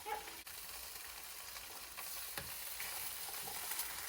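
Eggs frying in a hot pan in a remote Newfoundland cabin, a faint steady sizzle with occasional light clicks and scrapes.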